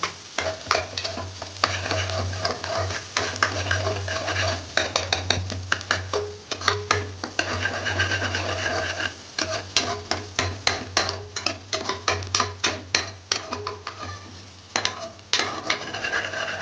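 Onions stirred and sautéed in a pan while preparing a ridge gourd kadaisal, with a steady sizzle and frequent scraping spatula strokes, close and continuous with no talking.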